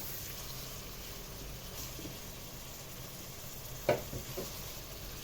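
A stuffed-vegetable mixture for mahshi, made with aubergine, courgette, cabbage and peppers, is sautéed in a pan with a faint, continuous sizzle and soft stirring, and a brief clatter near the end.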